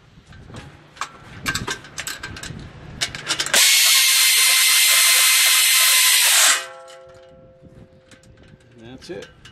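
Ratcheting wrench tightens bolts on a tilting wind turbine assembly, giving a loud, steady burst of close mechanical clicking for about three seconds amid softer handling and talk.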